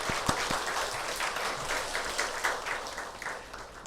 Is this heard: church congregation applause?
yes